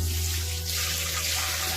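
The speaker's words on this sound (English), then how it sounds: "This is the stock water. So now we have to save it inside the pot." Stock water poured into a cooking pot while making ogbono soup, a steady wash of running liquid throughout, close and fairly even in level.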